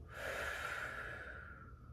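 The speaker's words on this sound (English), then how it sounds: "that exhale is a little more prolonged than a typical exhale, and you're doing it forcefully" A forceful, prolonged breath out during a bird dog core exercise, a single soft breathy exhale lasting over a second and fading at the end, close and quiet.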